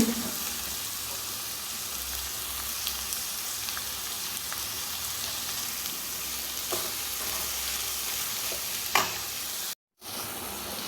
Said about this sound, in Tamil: கருவேப்பிலை ஒரு கைப்பிடி அளவு, எல்லாம் சேர்த்து நல்லா வதக்கிங்க